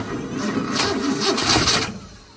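A 1966 Ford Mustang with a replacement starter cranks over in a short, loud burst, with rhythmic churning pulses that rise and then fade without the engine catching.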